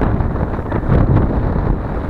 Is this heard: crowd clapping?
no